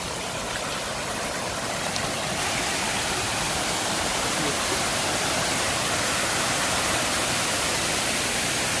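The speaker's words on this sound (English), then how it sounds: "there's actually water running down over there as you notice" Water runs down along an old aqueduct at the ruined Hall Head Estate plantation in St Thomas, a loud, steady, close rushing wash that never changes over the whole stretch.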